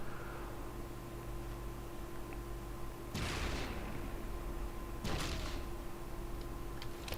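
Enemy ships in From The Depths fire on the player's fleet, two booming barrages about two seconds apart cracking out over a steady mechanical engine drone with a constant low hum.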